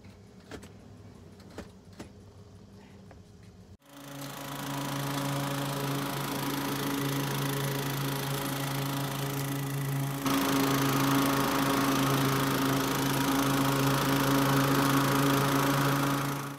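A lawn mower cuts a yard. After a few seconds of quiet with faint clicks, the engine starts abruptly, then runs loud and steady close by, its drone rising a notch in volume partway through.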